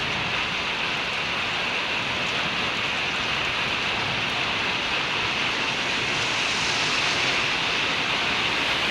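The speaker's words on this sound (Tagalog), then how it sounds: "may kasampang kulog guys" Steady, heavy rain falls outdoors in Riyadh, a dense unbroken hiss at constant loudness throughout, with no distinct thunder crack and no voices.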